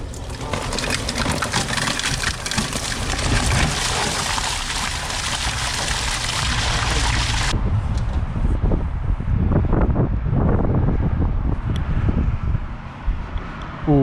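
Water flushing hard through a house gutter clogged with leaves, a loud continuous rushing gush that shifts partway through into gurgling, splashing flow.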